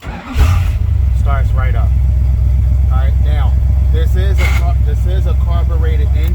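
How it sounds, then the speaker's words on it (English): A carbureted car with a manual gearbox cranks briefly and fires up, settling into a loud, steady idle close by while someone talks over the running engine. "You put your foot on the clutch, brake, and then the engine start is right here."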